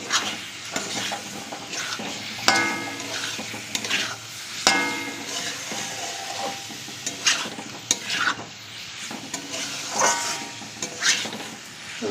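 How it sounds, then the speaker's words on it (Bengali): Fried potatoes are stirred into frying masala for an egg curry, sizzling steadily under repeated scraping and clattering spatula strokes against the pan, close and fairly loud, with no talking. "মশলার সাথে মাখিয়ে নিতে হবে, নাড়িয়ে চাড়িয়ে"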